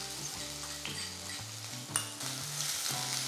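Chopped onion, garlic, green chili and ginger sauté in a pan for dal fry, a soft steady sizzle broken by a few scraping stirs of a utensil, heard alone.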